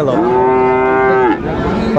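Friesian or cross-breed bull calves at a Dinajpur cattle market: a single loud, drawn-out moo lasting over a second, then a lower murmur of the crowd and animals.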